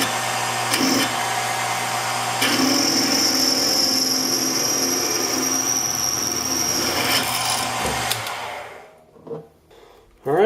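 A lathe drills brass with a steady whirring, grinding hum for about eight seconds, then winds down, leaving a few faint clicks and knocks.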